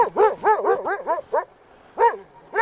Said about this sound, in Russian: Не со зла он лает, в принципе.